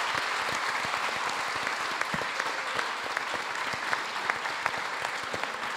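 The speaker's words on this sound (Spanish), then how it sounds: "Un aplauso para Javier" A science café crowd applauds a speaker with steady, full clapping throughout, a few sharper individual claps standing out.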